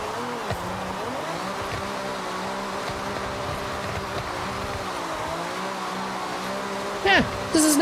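A car drifting in Forza Horizon, engine revs rising and falling in smooth sweeps under a steady rumble, with a sharp tire squeal bursting in near the end.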